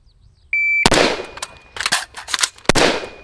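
Rifle shots fired during a fast reload drill by a left-handed shooter, a sharp sequence of loud close cracks after a brief timer beep, with irregular spacing between shots.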